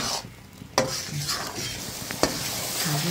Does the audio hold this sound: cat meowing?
no